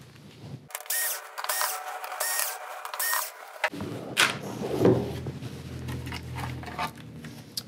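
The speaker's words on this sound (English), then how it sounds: "And let's get those screws out." Screws being removed from the power supply of a VIZIO M471i-A2 TV: close, small metallic clicks, scrapes and light taps from handling the board and screwdriver, fairly quiet.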